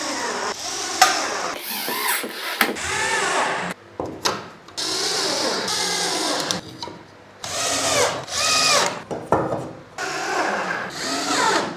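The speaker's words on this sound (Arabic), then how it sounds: "بالمنشار بتاعك وبتقطع اي زياده" A hand saw rasps through gypsum board in quick back-and-forth strokes, loud and close, with short pauses between bursts of cutting.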